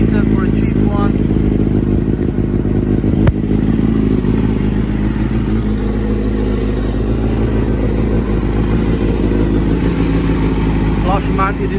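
A Kawasaki Ninja ZX9R with a cheap aftermarket exhaust idles close by, a steady low-pitched rumble with a brief blip and faint clatter, and a person talks over it.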